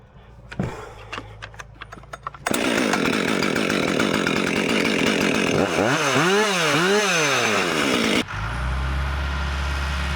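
Husqvarna chainsaw pulled and started, a few sharp pull-cord tugs, then the engine catches and runs loud and close, revving up and down in rising and falling sweeps before settling to a lower idle.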